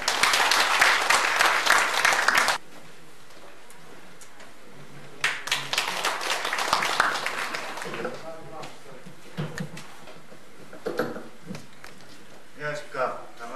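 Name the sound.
audience applause welcoming a presenter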